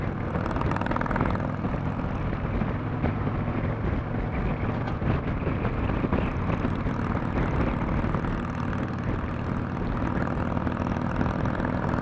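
A 2014 Harley-Davidson Ultra Limited Rushmore with a 103 ci engine cruises in fifth gear at about 2,000 RPM, giving a steady, loud low rumble mixed with heavy wind noise and no voices.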